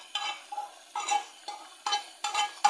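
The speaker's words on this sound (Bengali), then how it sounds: "এখন আমি শাকে ফোড়ন দিয়ে দিচ্ছি।" Hot whole spices in oil crackle and sizzle as they are poured over cooked Malabar spinach with red lentils, bursts of frying hiss rising and fading in uneven pulses, close and fairly loud with no talk.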